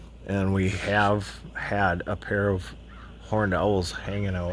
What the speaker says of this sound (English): You can hear the crows crowing.